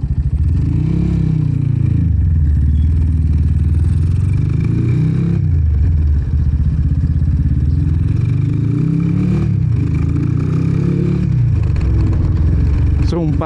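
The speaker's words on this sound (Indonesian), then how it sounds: "ini tigernya Jonat, suara mesinnya merdu sekali ini." A Honda Tiger motorcycle fitted with a KTM aftermarket exhaust runs nearby with a loud, deep, steady burble that swells and eases in slow waves, like revving near idle.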